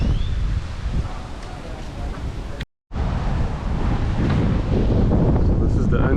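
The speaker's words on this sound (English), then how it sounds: "There's a lot of wind, but it's kind of nice." Wind at a calm beach in Cartagena, loud gusty buffeting and rumble against the microphone throughout, with a momentary dropout partway through before the blustery roar resumes.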